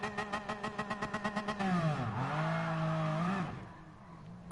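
A car in Gran Turismo Sport launches in second gear at half revs for a quarter-mile drag, engine pulsing in rapid throbs before a droning rise as it pulls away, then fading.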